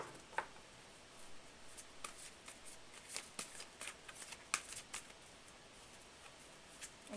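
Tarot cards being shuffled during a full-moon live reading, a quiet run of soft riffling and light card slaps in irregular bursts, close and faint with no talking over it.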